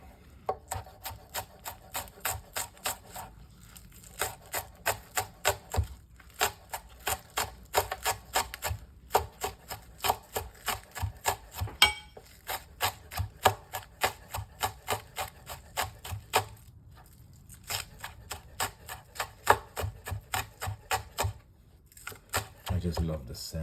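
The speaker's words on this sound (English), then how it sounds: "I just love the scent, the fragrance of both the cilantro and the scallion, especially when you're chopping them together." Knife chopping cilantro and scallion together on a board, a long run of quick rhythmic thuds with brief pauses, close and clear.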